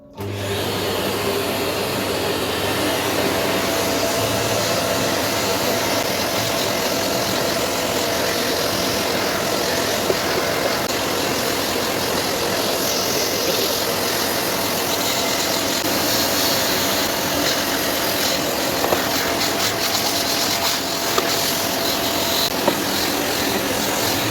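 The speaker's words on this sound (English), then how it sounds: "I'm here going to use vacuum to clean my PS5" A vacuum cleaner cleaning a PS5 console runs steadily and loudly for the whole stretch, a continuous whooshing motor drone with slight shifts in pitch as it moves.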